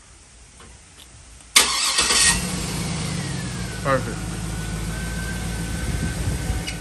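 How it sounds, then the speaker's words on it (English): A 2007–2014 Chevy Suburban started by remote start: after a quiet lead-in, the engine cranks and catches abruptly, then settles into a steady idle, with a single short spoken word. "Let's check and see if the remote start works."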